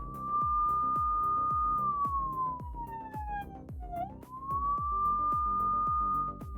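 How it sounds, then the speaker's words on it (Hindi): Police siren blaring from a scam warning web page: a steady wail that dips low, then climbs back up, over a repeating rhythmic thump. No voices. "एकदम से ही कुछ इस तरीके का पेज अपीयर हो जाएगा, वो भी पुलिस के सायरन के साथ में"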